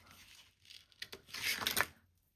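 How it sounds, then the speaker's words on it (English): Paper being trimmed for a retro road trip junk journal, heard as a brief close run of soft rasping cuts and tearing-like rustle that swells midway and then stops, with no talk. "I'm just going to trim that back a little bit"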